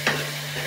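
Taro stems and potato frying in a pan for a sour curry, a soft stir and faint sizzle over a low steady hum, brief and quiet.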